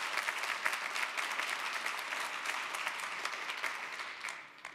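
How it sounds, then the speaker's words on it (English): An audience at a political conference applauds for about five seconds, a dense, even patter of many hands heard at moderate distance that tapers off at the end. "Sure, you can clap about that."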